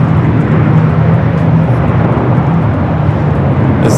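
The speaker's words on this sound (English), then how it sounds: "This Delta 767 300ER heading to Kahului, flight 425" A Delta Boeing 767-300ER airliner at LAX gives a steady, loud jet roar that holds even and continuous throughout, with no voices.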